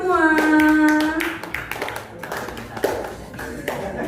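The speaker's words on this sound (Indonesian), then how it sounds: "Tepuk tangan untuk kita semua." Hands clapping together at a classroom session, a burst of applause-like taps following a held sung or spoken tone, loud and close with scattered claps continuing.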